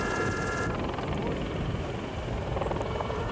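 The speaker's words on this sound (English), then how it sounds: "And the helicopter is about to land as Pfeiffer heads to a welcome service stop." A landing helicopter's rotor thump and engine roar fill the air at dusk, loud and steady throughout, with a dense low rumble and no pause.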